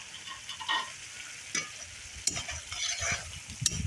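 Food stirred and frying in a pot over a firewood-fed clay stove: scraping stirs and bursts of sizzling crackle come at irregular moments over a low, steady background, with no voices.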